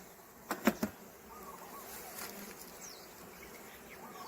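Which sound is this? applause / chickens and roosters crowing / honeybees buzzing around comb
honeybees buzzing around comb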